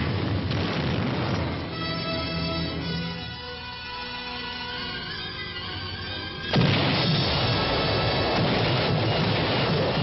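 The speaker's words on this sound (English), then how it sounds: "First, heavy preparatory fire to soften up the objective." Heavy preparatory artillery bombardment pounding an objective, a continuous roar of distant booms and rumbling blasts that surges louder near the end, with no voices.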